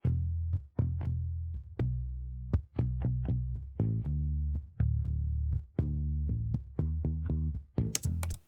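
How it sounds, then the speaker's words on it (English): Bass and music stems separated by Logic Pro 11's AI stem splitter play alone, with a steady punchy bass line and sharp rhythmic hits repeating through the whole stretch. "Let's just hear the bass and music."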